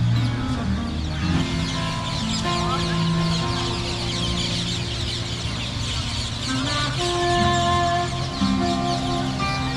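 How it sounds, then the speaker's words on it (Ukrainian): Chickens cluck steadily against busy outdoor background noise and music in Sri Lanka, with a rooster-like call now and then, fairly close and continuous. "Дивіться, як пташки тішаться"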